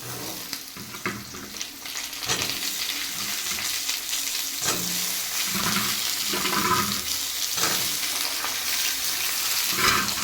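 Fresh, tender ridge gourd goes into potatoes frying in oil, producing a steady, fairly loud sizzle with stirring and scraping that swells now and then throughout.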